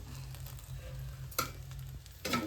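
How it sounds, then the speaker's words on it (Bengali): Fried rice being stirred in a pan, a quiet steady sizzle with two sharp scraping strokes of the spatula, one midway and one near the end. "নাড়িয়ে দেবো, আমি নাড়িয়ে দেবো, তুমি একটু সাইড দাও, আমি নাড়াই।"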